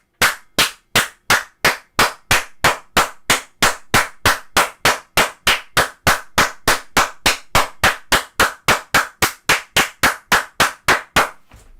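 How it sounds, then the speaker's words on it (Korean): Steady, rhythmic clapping in unison at a political rally, dozens of sharp claps at an even pace like a crowd clapping together, loud and without talk. "여러분 박수 치세요."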